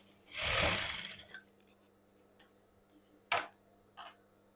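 A domestic sewing machine runs a short double stitch through blouse fabric: one sustained whirring burst near the start, then scattered light ticks and clicks as the fabric is handled, with a steady low hum underneath.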